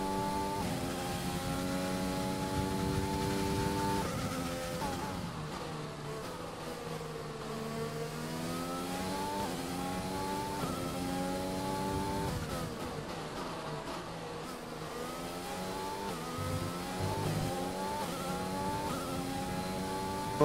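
A race car engine drones steadily through the first lap on cold tyres in an online racing game league, its pitch sweeping up and down with gear changes and throttle, constant and moderately quiet with no talk.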